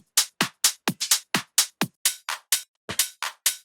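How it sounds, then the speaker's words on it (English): A quick loop of crisp hand claps from a tech house sample pack, each a sharp bright burst, repeating in a steady syncopated pattern with no voices. "Little clap loop."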